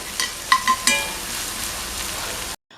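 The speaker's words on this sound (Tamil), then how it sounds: "பெரிய வெங்காயம் கலர் மாறுற அளவுக்கு நம்ம வதக்க வேண்டாம் ஒரு நிமிஷம் வதக்கி விட்டுட்டு" Steady sizzling of onions frying in oil, with a few sharp clicks and stirring scrapes near the start, then a sudden cut to silence.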